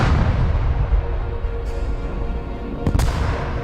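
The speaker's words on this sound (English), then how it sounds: "Crews used dynamite, which had only recently been invented, to level the top of the ridge" Dynamite blasting levels a rocky ridge top, a dense rumbling roar of explosions and tumbling debris with sharp cracks breaking through near the end.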